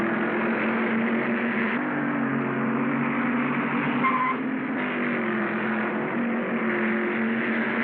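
Race cars roar hub to hub in a 1947 black-and-white film, a steady band-limited engine drone with slight pitch changes, loud and continuous throughout.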